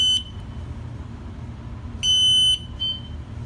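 A wireless water alarm gives short electronic beeps while pairing: a brief tone at the start, a longer half-second beep, then a shorter one, each loud and close over a quiet room hum.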